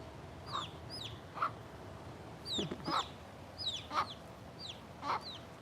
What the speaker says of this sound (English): That is just a beautiful bird.